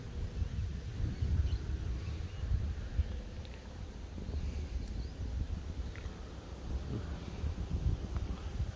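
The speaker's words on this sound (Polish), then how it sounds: "Zrywa się wiatrzysko." Low, steady rumbling wind buffets the microphone as a storm begins, a continuous gusty roar with no talking.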